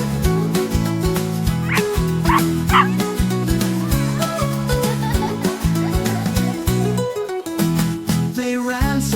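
Cartoon puppies yip and bark repeatedly through an upbeat children's song, with short bright barks layered over the steady music.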